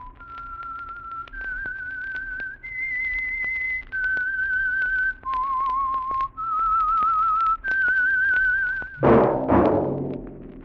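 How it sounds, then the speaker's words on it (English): A single person whistles the theme signal of The Whistler radio program, a clear, loud melody of eight held notes, each separated by a short gap, ending on a sharp accented burst and no talking. "That whistle is your signal for the Signal Oil Program, The Whistler."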